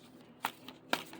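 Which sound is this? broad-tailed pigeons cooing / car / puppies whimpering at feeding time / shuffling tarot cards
shuffling tarot cards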